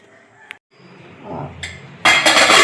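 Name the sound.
cooker lid being opened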